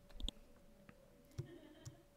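Computer mouse buttons click while a user works with shape tools in Illustrator: a few small, faint, dry clicks spread across a quiet room with a low steady hum.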